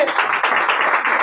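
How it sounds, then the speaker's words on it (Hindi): A church congregation claps loudly and together during a Hindi-language sermon, producing a brief, dense, continuous burst of applause with no pauses. "तो अपनी खुशी के लिए जोरदार तालियां बजाएं।"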